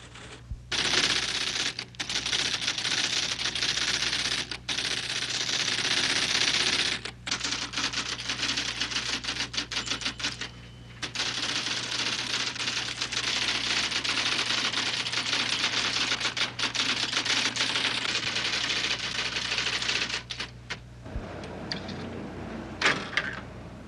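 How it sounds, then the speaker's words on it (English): Rapid, continuous clattering of typing on computerized typesetting machines, loud and close with a steady mechanical hum underneath and only brief pauses between long runs of keystrokes. "devotees retype the text on computerized machines that transfer each typed letter into an electronic code"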